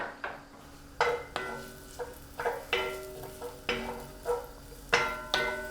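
A quesadilla filling cooks in olive oil in a cast iron pan, with a soft sizzle under a series of regular metallic scrapes and clinks of a utensil against the pan, close by.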